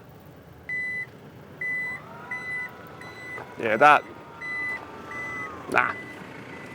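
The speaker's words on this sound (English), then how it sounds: "That's how loud this beep is." A Toyota Land Cruiser Prado 250's boot-opening warning gives short, evenly spaced electronic beeps at a steady rhythm, with brief speech cutting in between them.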